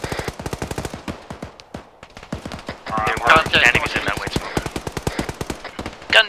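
Rapid machine gun bursts in a military video game, a loud, steady stream of close shots with brief pauses and radio chatter between players over the fire.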